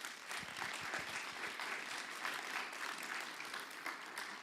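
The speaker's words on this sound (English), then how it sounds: "A round of applause." An audience at a keynote speech at HEC Paris applauds steadily throughout, a dense even patter of many hands in a hall, with no voices over it.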